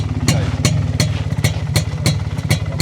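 A Junak M10 motorcycle engine runs with a rapid, regular chugging pulse, loud and close, like a motor idling steadily.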